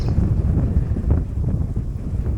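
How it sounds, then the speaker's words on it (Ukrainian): Strong wind blowing outdoors at Basiv Kut lake during a fishing trip, a steady low roaring buffet against the microphone with gusty fluctuations, no talk. "Так, метрів з 12 точно дує."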